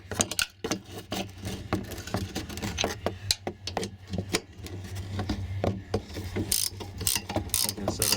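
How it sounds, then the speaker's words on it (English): Ratcheting wrench snugging down bolts on a 2007 Dodge Ram 1500 Laramie, rapid bursts of close metallic clicks in uneven runs with short pauses between strokes. "ratcheting wrench is probably your best bet up here"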